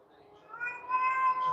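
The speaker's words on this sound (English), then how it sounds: "You got a cat over there? I do, and this cat is just hungry." A hungry house cat meows in a rising, drawn-out cry, fairly close and alone, swelling louder toward the end.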